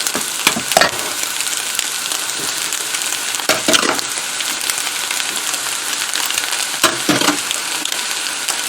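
Cooked rice, boiled with salt beforehand, is stir-fried in a pan over softened aromatics for chicken 65 fried rice, a steady loud sizzle punctuated by several sharp scraping stirs of the spatula.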